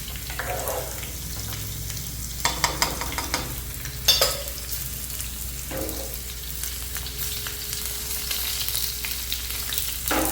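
Pineapple pachadi frying in a pan is stirred, producing a steady close sizzle with several sharp scraping and clinking strokes of the spoon spread through the clip, no voices over it.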